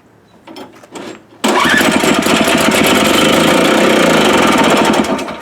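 ECHO snow thrower engine fired on starting fluid: a few quiet knocks, then the small engine catches abruptly and runs loud and steady with a rapid rattling beat.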